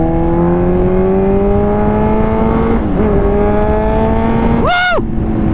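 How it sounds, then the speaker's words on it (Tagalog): A motorcycle engine whines loudly and close, its pitch climbing steadily through the revs, then dips briefly. After that comes a sharp rising-and-falling surge like a quick throttle blip. "So malakas pa rin ang birada ng motor na to."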